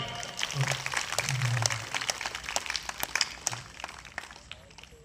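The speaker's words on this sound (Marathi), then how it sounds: "टाळ्या" A small crowd claps at a Buddhist wedding ceremony, with scattered, uneven handclaps mixed with low voices that gradually thin out.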